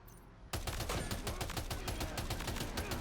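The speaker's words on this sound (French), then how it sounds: "J'essaye la mitrailleuse, elle a pas mal de recul" A machine gun in the video game Death Stranding 2 fires a rapid, sustained burst of loud close gunshots, starting after a half-second lead-in and rattling without pause to the end.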